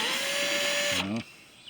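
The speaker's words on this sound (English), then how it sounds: "I've got my trusty Warrior drill from Harbor Freight here, and let's see what I can do." Cordless Warrior drill from Harbor Freight whining at steady high pitch, close and loud, working on cracked old plastic taillight lenses, then winding down in a brief stuttering slowdown before stopping.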